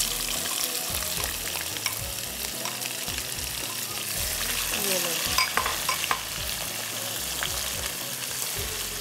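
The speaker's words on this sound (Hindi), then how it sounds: "अब हम इसमें स्लाइस करी हुई अनियन डालेंगे" Two sliced onions fry in a pan for Murgh Nawabi, giving a loud, dense sizzle. Stirring and scraping strokes run through the hiss from start to finish.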